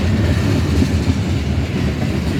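A freight train rolls past on the rails at Bellevue, a loud, steady rumble with rhythmic clatter from the wagons and no voices.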